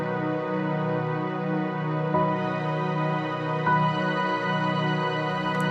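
Sustained layered keys: piano notes over a warm pad and string bed, soft and smooth, with a couple of gentle chord changes.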